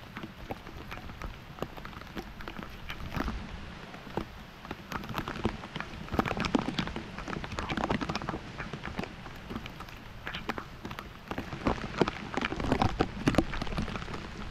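Rain falling on a kangkong field, a steady patter with scattered louder drops and splashes throughout, continuous and close with no talking.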